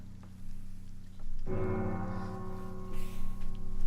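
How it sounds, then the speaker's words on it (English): A deep church bell tolls in a fantasy role-playing game, one strong resonant strike ringing out over a steady rain-like ambient bed, its long hum sustaining to the end. "Oh, there's the bell."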